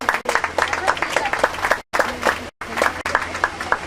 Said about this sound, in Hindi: राहत भाई का एक बड़ी तालियों से स्वागत किया जाए।